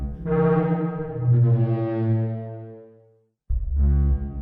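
Deep, resonant horn-like blasts from a simulated Parasaurolophus crest, air pushed through a 3D model, two long low booming tones with a brief pause between them, loud and hollow like a foghorn.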